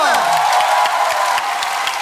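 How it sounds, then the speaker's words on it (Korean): A studio audience at a comedy show claps and cheers in a brief, dense burst, close and loud, with talk over it. "박수 한번 치자."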